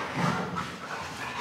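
Several dogs excited about going for a walk, giving short whimpers and eager panting up close in a brief, busy burst with no talking.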